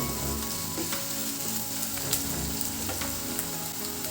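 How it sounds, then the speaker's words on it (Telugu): Whole spices, including cinnamon, fry in hot oil in a pan as a chicken fry begins, giving a dense, steady, close sizzle with faint crackles and no voices. "వీటన్నిటిని ద్వారగా వేపుకోవాలి ఒక రెండు నిమిషాల పాటు వేయించితే చాలు ఫ్రై చేసుకోవాలి రెండు నిమిషాల పాటు"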